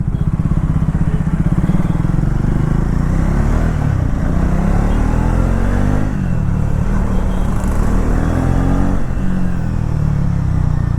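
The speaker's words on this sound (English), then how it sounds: "Even if I drop the revs, let's say third gear around 2500 rpm, I open the gas, there is no hesitation from the engine." A Triumph Thruxton 400 motorcycle rides through city traffic, its engine a loud, steady, close drone with slight swells as the throttle opens, continuous throughout and with no voices.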